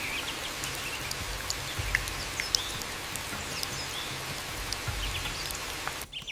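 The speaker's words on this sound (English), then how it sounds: "The rain continues its assault" Steady rain falling outdoors in the wild, a dense even hiss of drops with faint bird calls scattered over it, continuous and moderately loud.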